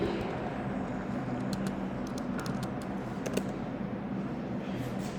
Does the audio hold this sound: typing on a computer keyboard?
yes